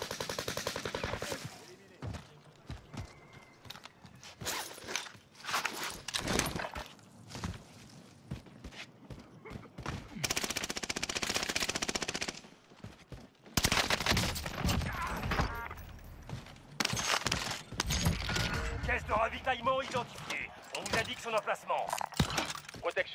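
Gunfire in the Warzone Pacific battle royale game, with bursts of shots and rapid automatic fire recurring across the scene amid footsteps, while players talk over it.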